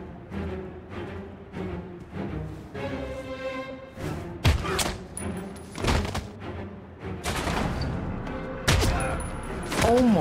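Gunshots in the video game Heavy Rain, several sharp, loud reports scattered over tense background music and ambience.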